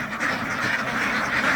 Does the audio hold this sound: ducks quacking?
yes